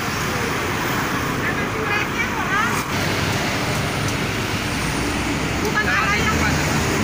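Continuous roar of slow, jammed traffic on Karawang's Pantura road, with cars, buses and trucks blending into a broad rumbling wash, plus a few faint higher squeaks drifting over the nearby engine noise.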